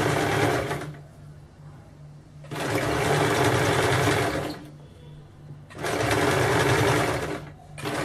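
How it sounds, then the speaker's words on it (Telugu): A sewing machine stitches kameez cloth in three bursts of steady, rapid whirring, separated by short pauses where the motor stops. "స్టిచ్ వేసుకోండి."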